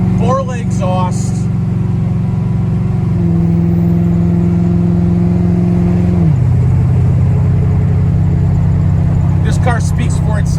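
A supercharged LS2 V8 in a 1969 Chevrolet Camaro pro touring car with Borla exhaust rumbles steadily close by, its pitch stepping down twice as the revs drop, while a voice talks briefly at the start.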